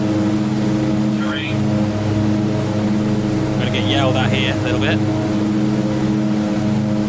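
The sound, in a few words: Twin Otter floatplane engine from a video game, Microsoft Flight Simulator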